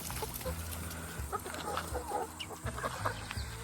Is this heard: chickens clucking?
yes